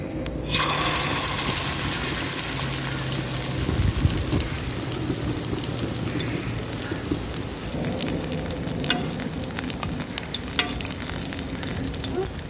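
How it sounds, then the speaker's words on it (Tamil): Fish fries in hot oil on a dosa pan, giving a loud, steady, close sizzle and crackle throughout, with soft stirring and scraping sounds and no voices. "இப்போது எண்ணெய் நல்லா காஞ்சிருச்சுங்க. நம்ம மீனை வச்சிடலாம்."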